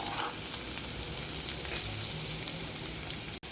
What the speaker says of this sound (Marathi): टाकते जिरा, पत्ता, कांदा, कांद्याचा कलर चेंज होईपर्यंत याला परतून घ्या.